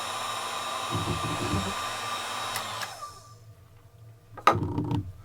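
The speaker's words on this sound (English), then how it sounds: "This is like a blow dryer that would totally destroy your hair if you used it." A hot air blower like a blow dryer used during a Lego engineering session: a steady whooshing hiss that cuts off around three seconds, followed by a few clattering knocks of handling.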